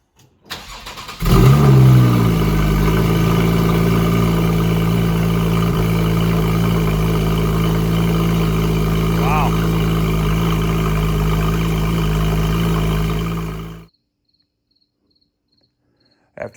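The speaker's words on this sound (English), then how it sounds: "We're gonna give her a first start in the garage." A 2014 Porsche 911 Carrera S with a Fabspeed valvetronic exhaust starts in a garage, a sharp crank and flare settling into a loud, steady idle that runs for about twelve seconds before shutting off abruptly.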